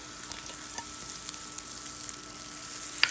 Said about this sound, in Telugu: రుచిగా పుదీనా పచ్చడికి తాలింపు వేస్తున్నాను